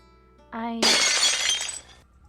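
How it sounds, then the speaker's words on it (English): Window glass shatters in The Royal Trap video game, a loud crash that bursts in after a brief tonal lead-in and scatters into a bright tinkling of shards lasting over a second before trailing off. "Without warning, our conversation is interrupted by the sound of breaking glass."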